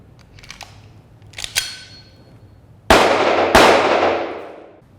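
Blank-firing replica Beretta 92 pistol made by Numerex in Germany: a few faint early clicks and pops, then two loud, sharp reports about a second apart, each ringing into a decaying echo, no talk.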